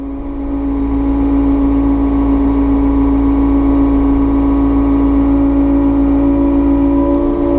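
Takeuchi TB260 excavator loading topsoil into dump trucks, its diesel engine droning steadily and loud throughout, with a strong low hum and a slowly rising whine as the hydraulics work.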